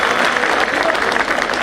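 A crowd at a Delhi bar gathering at Tees Hazari claps loudly and densely in a short, unbroken burst of applause.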